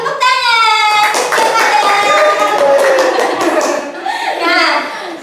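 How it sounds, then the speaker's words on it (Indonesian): Primary school class of children clapping their hands, a lively burst of many claps with children's voices and a teacher speaking over it. "Ya, tepuk tangan."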